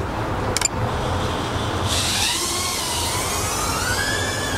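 Micro drone motors spinning at half throttle, a steady buzzing whine with rising and falling pitch sweeps as the craft flies outdoors, continuous and fairly close with a brief click near the start.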